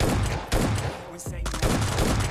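Enemy gunfire in the PUBG Lite battle royale game: loud bursts of automatic shots come in two clusters with a brief gap between them, sharp and close.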